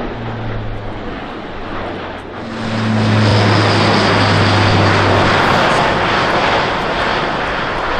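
An Airbus A400M Atlas turboprop military transport makes a flying display at an airshow, its propeller drone loud and continuous, swelling to a steady roar midway through with a low, buzzing tone.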